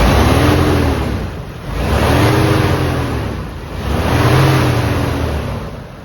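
A 1997 Nissan 180SX Type X on the move, its engine note rising and easing in long swells of road drone, steady and fairly loud throughout with no talking.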